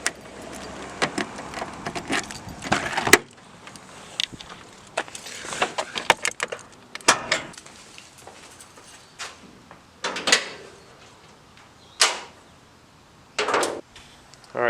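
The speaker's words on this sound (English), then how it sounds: "Let me get the keys so I can open up both the hoods" Car keys jangle while a Nissan 300ZX is unlocked, with irregular metallic rattles, clicks and a few sharper mechanical clunks spaced unevenly, close and fairly loud against near silence.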